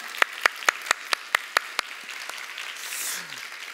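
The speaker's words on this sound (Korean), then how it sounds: "뜨거운 박수로 환영하겠습니다" About eight crisp, evenly spaced handclaps ring out during a Korean church worship service in Seattle welcoming guests, then fade into quiet room tone.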